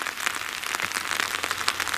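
Rain falling steadily at an outdoor oil-spill site in the southern Black Forest, a dense, even patter of drops on surfaces with no voices.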